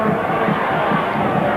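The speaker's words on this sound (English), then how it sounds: "The Werribee crowd coming to life." Crowd noise from Werribee supporters at a 1993 VFA football grand final against Port Melbourne, a steady wash of distant cheering and murmur that swells slightly at moments without breaking into a sharp roar.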